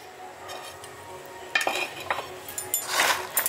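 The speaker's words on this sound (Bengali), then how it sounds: "এবার ভালো করে সমস্ত কিছু মেখে নিচ্ছি।" Soaked bread being mixed by hand with Maggi spice mix for bread pakora, with soft squishing and a few utensil clinks against a bowl growing busier in the second half, close and fairly quiet.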